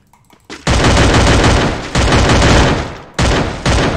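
Rapid automatic gunfire in the battle-royale video game Free Fire, loud and close, comes in several long sustained bursts separated by brief gaps, with no talk over it.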